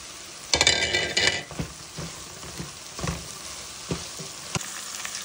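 Potato cubes with their skins on drop into a curry frying in a pan, starting with a loud burst of sizzling, then settling into a softer crackle with a few scrapes and knocks of stirring.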